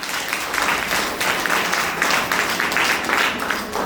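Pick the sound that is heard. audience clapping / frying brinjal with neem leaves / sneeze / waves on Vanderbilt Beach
audience clapping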